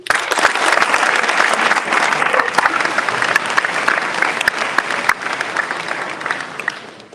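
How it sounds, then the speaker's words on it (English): A crowd at the Green & White Awards applauds the juniors, a loud, dense burst of clapping that keeps going throughout and eases off a little near the end. "Please give them a round of applause."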